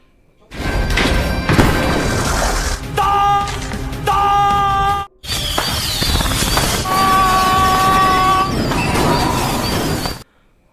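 Firecrackers exploding in a loud, continuous barrage of blasts and booms over whistling tones, with a brief break midway before it resumes just as intensely.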